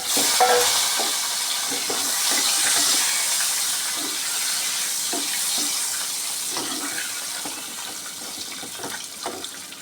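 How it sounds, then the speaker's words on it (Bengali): Potatoes and broad beans frying in a pan, a steady close sizzle with soft scraping stirs and small clinks throughout, no voices. "আজকে নতুন আলু দিয়ে ডিম রান্না করব আর সিম আলু ভাজি করে নিচ্ছি"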